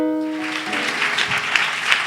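A church congregation claps and cheers to welcome a new member, starting after a fading sustained tone and building into scattered, lively clapping with brief shouts.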